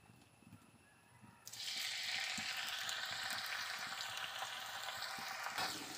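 Crushed garlic and ginger hit hot oil in a pan, bursting into a loud, steady sizzle after a quiet opening, the crackling hiss holding strong to the end with no talk.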